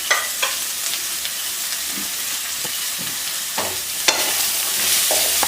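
Shredded cabbage with carrot, beans and onion frying in a pan as it is stirred, a continuous close sizzle punctuated by sharp scrapes and clicks of the spoon against the pan.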